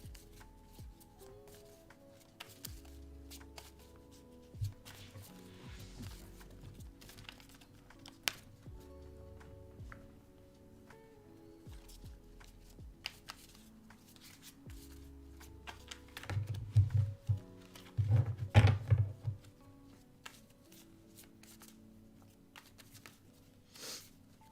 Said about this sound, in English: Let me pull an oracle card for you